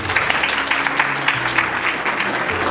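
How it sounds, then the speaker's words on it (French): An audience at an awards ceremony in a hall applauds loudly and continuously, a dense wash of clapping lasting the full few seconds. "merci d'applaudir ça très très fort, s'il vous plaît"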